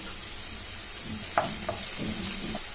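Capsicum, spring onion and other vegetables for soya chunk fried rice stir-frying in a pan, with a faint steady sizzle and a few light spatula clicks and scrapes.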